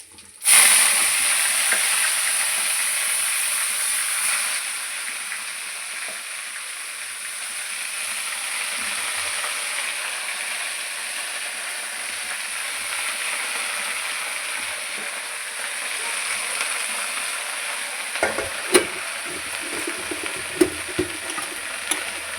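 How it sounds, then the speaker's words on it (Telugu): Leafy greens frying in a pan with mustard seeds, garlic and dried chillies, a steady close sizzle and crackle that holds for the whole stretch, with a few sharper pops and stirring scrapes near the end. "బాగా పొడిగా రావాలంటే మూత పెట్టకుండా అట్లే వేయించుకోవాలా."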